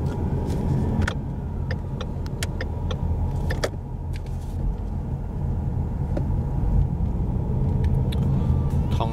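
An Audi R8 convertible supercar cruises through a town, giving a steady close engine and road rumble with a few light clicks and rattles from the cabin, without any talk.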